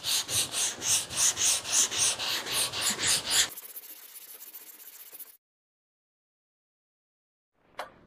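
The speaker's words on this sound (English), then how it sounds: "We're gonna use some 180 grit sandpaper on the hook and loop flexible block." Sandpaper of 180 grit on a hook-and-loop flexible block scrubs guide-coated car body putty in quick, even back-and-forth strokes, close and rhythmic, then a short softer rub before silence.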